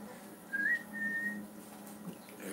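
A person whistles a brief tune, a couple of clear sustained notes near the start followed by quieter room sound.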